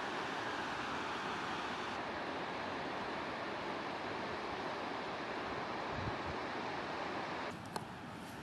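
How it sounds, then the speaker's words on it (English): Rapids of a mountain river in Jotunheimen National Park rush in a steady, dense roar from start to finish, loud and close, with a slight drop in intensity near the end. "it's probably coming from these rapids here, making lots of noise"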